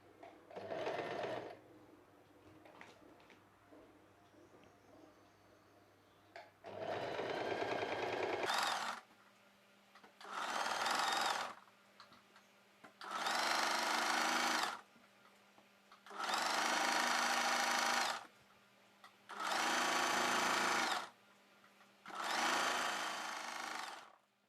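A sewing machine stitches thread piping onto a square-neck plain blouse in repeated bursts of rapid whirring and needle clatter, each lasting a second or two, separated by short pauses, fairly close and alone.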